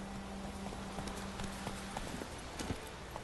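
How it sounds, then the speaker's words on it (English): Horse hooves clip-clop in an uneven galloping rhythm, growing gradually nearer after a call in The Witcher 3 video game, fairly quiet over a low background tone. "Let's call the horse."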